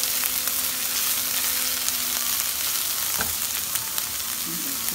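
Capsicum, carrot and other vegetables sauté in a pan for spring rolls, giving a steady, close sizzle and fry with a brief stir clatter midway, no talking.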